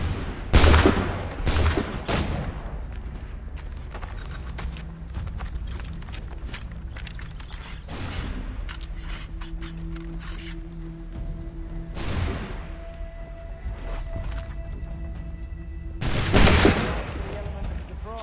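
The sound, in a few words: gunfire in the Assassin's Creed III Remastered video game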